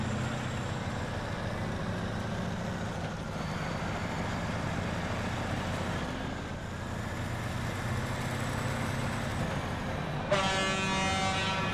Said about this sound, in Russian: какой же клаксон офигенный. Он похож на БелАЗ, кстати